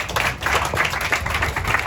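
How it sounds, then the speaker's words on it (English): A crowd claps steadily, a dense patter of hands that keeps an even level for the whole short stretch. "So to Brennan and Mike, let's give them both a round of applause."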